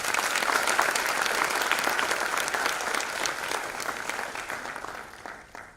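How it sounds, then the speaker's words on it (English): Sustained applause from a conference audience, a dense steady wash of many clapping hands at even loudness that thins and fades out near the end. "Please give them a big round of applause."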